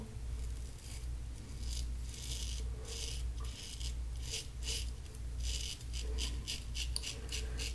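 A worn Gillette Aristocrat safety razor scrapes through lather in short repeated rasping strokes, close and fairly quiet over a low background hum.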